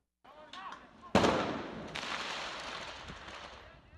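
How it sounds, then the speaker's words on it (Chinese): Gunshots ring out in a street in Myanmar during a military crackdown on protesters: a loud sharp crack with an echoing tail, a second fainter report, and a voice briefly before. "街头枪声不断"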